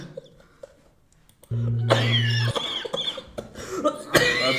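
A person coughs up close in a few harsh, throaty bursts. A steady low hum runs under the first cough, and short breathy sounds follow.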